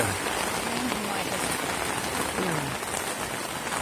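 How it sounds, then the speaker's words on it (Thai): Steady, dense rain pouring down on a football pitch, a constant loud hiss throughout with a few faint tonal sounds underneath. "บรรยากาศฝนตกครับ"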